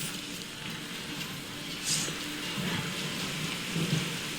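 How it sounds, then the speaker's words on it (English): Steady rain with rolling thunder from a storm in The Witcher 3: Wild Hunt, a continuous wet hiss with low rumbles swelling now and then, no voices. "The storm, damn it."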